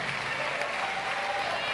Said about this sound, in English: Give Jonathan Jackson another great round of applause for delivering our family message to the world